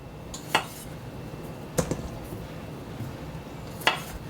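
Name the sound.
knife slicing baby potatoes in half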